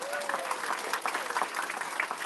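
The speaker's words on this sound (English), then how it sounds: "Round of applause for our trombones" Audience at a school board meeting applauds the trombone section of a school band, a brief burst of dense, steady clapping at moderate level with a faint voice beneath.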